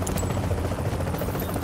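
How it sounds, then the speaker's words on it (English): A helicopter in The Division video game, with a loud, thudding rotor chop pulsing rapidly through the short span, plus a few sharper bursts mixed in. "Hell of a chopper."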